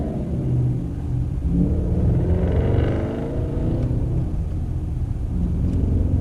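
Car engine running with a steady, loud low rumble that stays constant throughout, with no voices over it.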